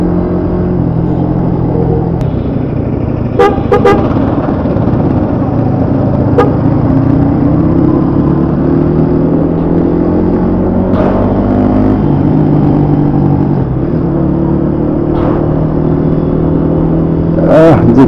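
A Suzuki Gixxer motorcycle rides through town without using the clutch, its engine rumbling loudly and close with rising and falling pitch as it accelerates and shifts, and a few sharp clicks along the way.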